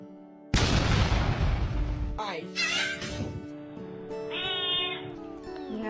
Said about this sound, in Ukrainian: ось вам котика, щоб покращити настрій